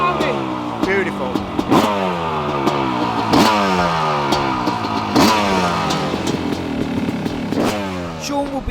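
A 2023 Yamaha YZ500 two-stroke motocross bike races nearby, its loud engine rising and falling in repeated revving sweeps with sharp gear-change breaks, other bikes blending in.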